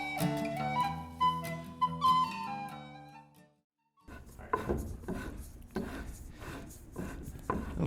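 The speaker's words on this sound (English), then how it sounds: "So it's just as well to drill it all the way from one side" Music with sustained tones plays first, then after a short silence a hand drill bores through wood on a Moravian workbench in repeated rasping, scraping strokes at close range.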